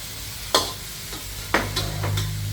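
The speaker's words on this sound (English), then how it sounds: "The one that we mix with the black soy sauce, the thick noodle." Thick noodles being stir-fried with black soy sauce, a low steady sizzle punctuated by several sharp spatula scrapes against the pan at irregular intervals; no voices.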